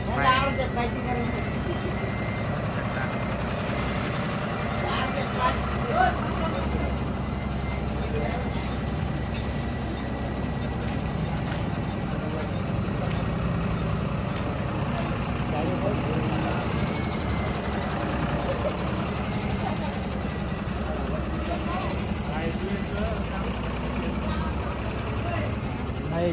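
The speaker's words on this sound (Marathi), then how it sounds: "चला मित्र निघाली गाडी आता" A band truck sets off and drives along with a steady, rumbling engine and road noise, while people talk over it.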